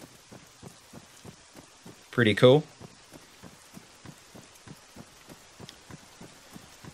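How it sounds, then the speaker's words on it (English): Rain falls in the ARMA 3 military game, a steady patter of droplets with faint distant thunder, while someone briefly speaks in the middle. "And as you can see, it's raining."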